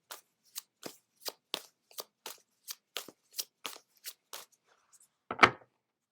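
Angel Wisdom Tarot cards being shuffled by hand, a brisk run of about a dozen crisp riffling snaps at a steady rhythm, close and alone, ending in one louder slap as the deck is squared.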